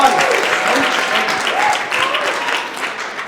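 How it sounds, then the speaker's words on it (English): Audience applause fills the room in a steady wash of clapping that rises and dips slightly, with a faint voice underneath. "Applause, laughter."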